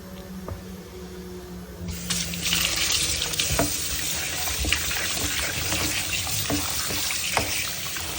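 Tap water gushing steadily into a kitchen sink while bele fish is soaked, starting suddenly after a quieter moment and running on with small clinks of handling.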